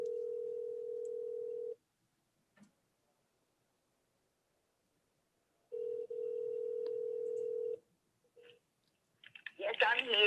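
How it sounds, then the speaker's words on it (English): A telephone call placed over a speakerphone at a township committee meeting: two long steady ringback tones with a gap between them, each about two seconds, loud and clear, followed by clicks and a voice answering at the end. "I'm going to try to call her on the phone, and hopefully she's going to pick up"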